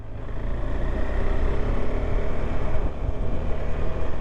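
A KTM 390 Adventure motorcycle engine runs while riding, a steady low rumble mixed with wind roar, moderately loud and continuous with slight swells in intensity.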